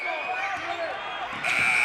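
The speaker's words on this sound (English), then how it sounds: "there's the buzzer to end the quarter" A loud, sustained electronic buzzer ends the quarter at a high school boys' basketball game in a gym, sounding steadily over crowd noise and squeaking shoes, then jumping louder near the end.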